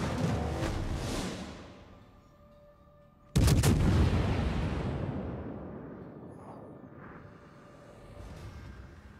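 Warship guns firing in World of Warships, with the cruiser Zao in the battle: a heavy salvo booms at the start and rolls away, then a louder blast crashes in and rumbles down over several seconds.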